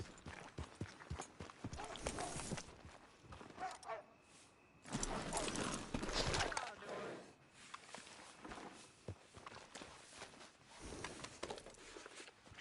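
A horse's hooves clip-clop in an uneven walking rhythm nearby, with louder shuffling bursts in between and outdoor background noise.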